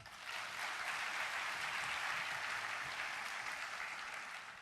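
A church congregation applauds at a 2013 opening worship service, with dense, even clapping that swells in and holds steady before tapering slightly at the end.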